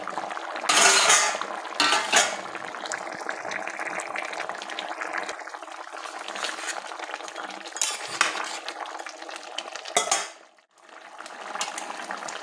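Fried small fish being tipped into a pot of cooked vegetables and stirred, with a spoon scraping and clinking against the metal pot over a soft bubbling simmer.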